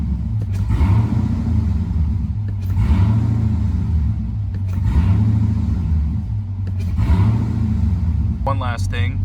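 A 2019 Dodge Challenger R/T Scat Pack Widebody fitted with a Pedal Commander throttle controller is driven, its V8 rumbling loudly and close up while it rises and falls in repeated revving swells about every two seconds, ending with a brief clatter.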